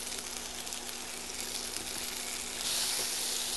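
Tricolor peppers sizzle in a hot pan, a steady broadband hiss with faint clicks that swells louder near the end, with no talking.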